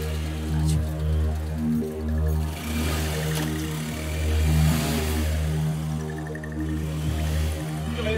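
A scooter engine revs steadily and loudly as it pulls away, its droning mid-range note rising and falling with throttle over about eight seconds, with a faint clatter underneath.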